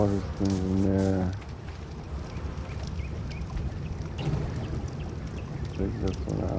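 Water splashing and pouring steadily as water skins are filled in the survival game ARK, with a continuous wet rushing wash running throughout and a brief tonal game sound at the start.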